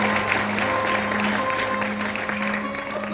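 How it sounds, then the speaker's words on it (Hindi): An audience at a spiritual discourse claps at the preacher's urging, a moderate, continuous patter of many hands over a steady low hum from the hall's sound system. "चिड़ावा, तालियां बजाइए भरपूर।"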